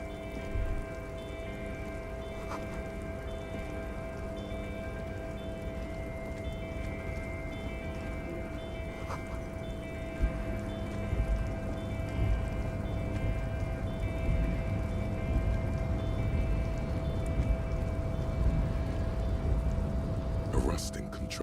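Rain falling in the video game Disco Elysium, a steady hiss of drops on surfaces heard near and constant throughout, with a faint low rumble beneath it and no talk over it.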